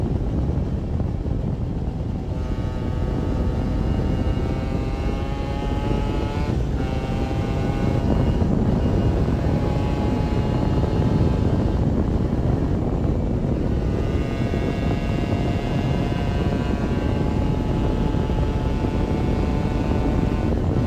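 Honda NS-1 75cc two-stroke motorcycle engine held at high revs on the road in sixth gear, a loud continuous buzzing whine with harmonic tones that dip briefly and climb again, plus constant wind rush, with no talking.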